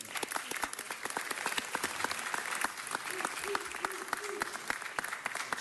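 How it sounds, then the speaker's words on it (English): An audience breaks into a sustained round of applause at a formal introduction, dense steady clapping filling the room at even loudness throughout, with no talk over it. "Let's give her a round of applause for that."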